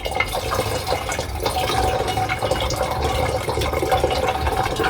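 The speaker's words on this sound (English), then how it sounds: "And pour nice and slow, it won't stir up." Liquid poured slowly from a vessel during gold refining, a steady soft splashing trickle running continuously and fairly close, with no voices.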